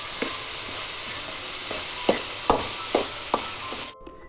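Vegetables for egg fried rice stir-fried in a hot pan, a steady close sizzle broken by several sharp spatula scrapes and knocks, then cutting off abruptly near the end.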